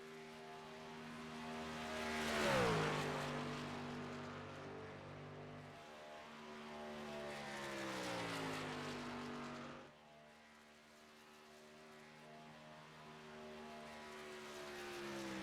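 Race trucks, including a Budweiser-sponsored truck, running laps at Las Vegas: engines drone steadily, swelling as one passes close around the third second, fading, then building again with another pass.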